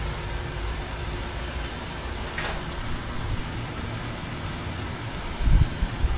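Steady Texas rain patters down across the whole stretch, a dense even hiss with a faint soft bump near the end.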